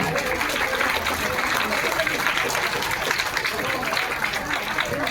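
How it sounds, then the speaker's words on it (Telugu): An audience applauds at the opening of an archaeology museum in Eluru, with dense, steady clapping filling the whole stretch and murmuring voices mixed in beneath it. "చప్పట్లో గట్టిగా."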